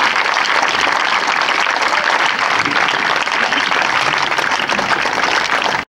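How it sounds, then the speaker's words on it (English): A crowd at a high school legends-of-the-game baseball event applauds, loud continuous clapping from many hands that stays dense and even throughout before cutting off abruptly. "could we please give another round of applause for our legends of the game"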